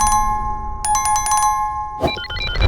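A quick series of bright bell dings, followed by a rising multi-tone chime over a faint low hum.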